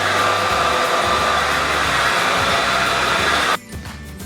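A hair dryer on a low to medium setting blows steadily while drying the roots of curly hair. The whir stays loud and close for about three and a half seconds, then cuts off abruptly and leaves near silence.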